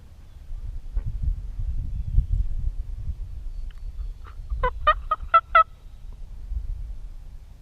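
Wild turkey toms gobble in the distance during a public-land Kansas spring hunt, a brief rattling burst of several gobbles over quiet outdoor background rumble.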